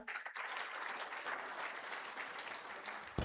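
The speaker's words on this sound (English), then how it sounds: "Let's applaud Nelson once more." Steady applause from a summit audience at a health integration launch event, a continuous crowd clapping at moderate level that holds evenly and ends with a single sharp knock.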